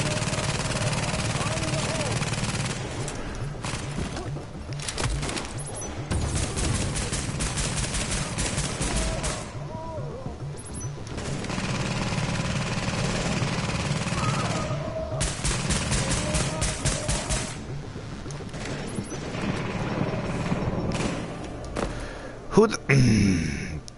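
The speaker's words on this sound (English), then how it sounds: "The bullets were clearly coming from the left, yet I'm being hit from the right." Gunfire rattles through a firefight in the video game The Division, sustained bursts of shooting that come and go across the scene, mixed with a low rumble and a few louder impacts near the end.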